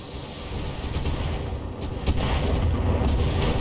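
Rumbling explosions and weapon fire from the mech combat game BattleTech, a sustained dense barrage with heavier booms landing near the end, loud and continuous with no talking.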